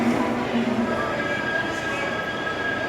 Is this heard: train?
yes